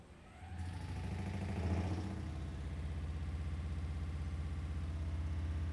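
A melty brain spinning combat robot with an accelerometer sensor spins up, a steady mid-pitched motor whir that rises briefly and then holds a sustained hum close by, with no talk.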